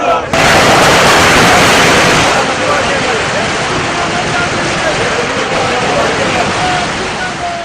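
Firecrackers burst at a roadside political welcome for a Congress leader, a loud, dense crackling barrage that starts abruptly and then continues as a steady rattling wash, with crowd noise beneath.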